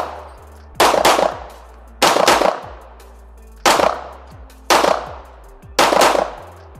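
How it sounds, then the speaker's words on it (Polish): Five sharp, loud pistol shots from a Canik fitted with a GK Arms compensator, fired at a range in a compensator test, evenly spaced about a second apart, each with a short ringing tail and no talking. "Strzela po prostu, broń pracuje płasko."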